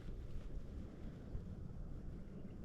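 Wind rumbles faintly but steadily across a microphone outdoors, a low, soft, buffeting noise with small gusts and no talking.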